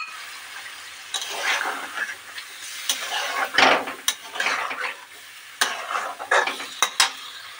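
A spatula stirs Amuda fish curry in a pan after water has gone in, giving intermittent scraping and clinking strokes with soft sizzling between them, close and moderately loud.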